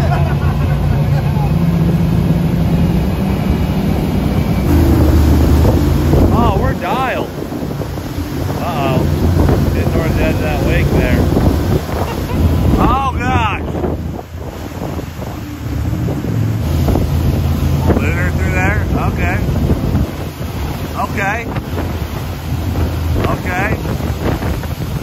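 A mini jet boat running on the Snake River, its engine a loud constant roar buffeted by heavy wind noise on the microphone, while people talk excitedly over it.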